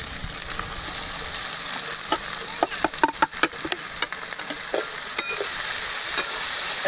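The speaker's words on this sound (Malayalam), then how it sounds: "നമുക്ക് ഈ മീൻ വറുത്ത എണ്ണയിലേക്ക് സവാള വാട്ടിയെടുക്കാം കേട്ടോ" Sliced onions sizzle and sauté in oil left over from frying fish, a loud, steady hiss broken by scraping stirs and clinks of the utensil against the pan, with no talking.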